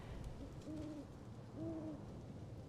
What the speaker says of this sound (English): Hear the owl?